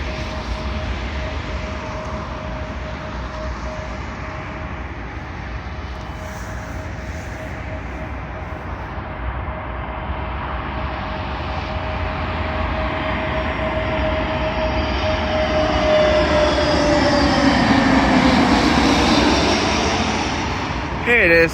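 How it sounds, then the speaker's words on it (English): A Eurowings Airbus A320neo landing on runway 27L at London Heathrow gives a steady jet engine roar with a faint tonal whine that swells louder toward the end as it passes close; a voice talks over it. "Arriving in now is a Eurowings Airbus A320 Neo from, I believe, Stuttgart to London Heathrow."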